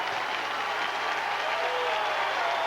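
A college football stadium crowd in Piscataway, at a 1996 Miami versus Rutgers game, cheers and applauds in a steady, distant wash of noise that rises slightly toward the end.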